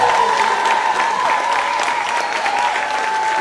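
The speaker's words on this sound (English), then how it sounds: "Let's have a big Highview round of applause for act two of our second graders." A school talent-show audience applauds loudly for a second-grade act at an elementary school, dense continuous clapping and a few cheers filling the room throughout.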